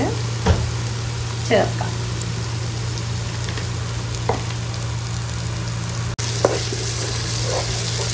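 Thick curd is added to masala frying in a pan for Palakkad-style chicken biryani. A close, continuous sizzle is broken by sharp stirring scrapes and spoon taps, over a low steady hum, and a voice speaks briefly.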